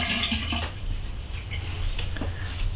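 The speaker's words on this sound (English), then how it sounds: "And just pour the water out." Rinse water sloshing and gurgling as it is poured out of a darkroom chemical bottle, a short close splashing run with a few splatters toward the end, over a low steady background hum.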